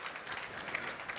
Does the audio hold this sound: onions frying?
no